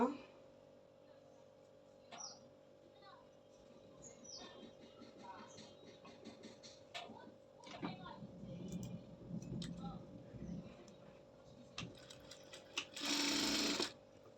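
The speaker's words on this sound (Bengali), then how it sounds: "এখন সেলাই করে নিব।" A sewing machine stitching fabric for a baby frock runs in short intermittent bursts of ticking and whirring, fairly quiet, with a brief louder run near the end over a steady background hum.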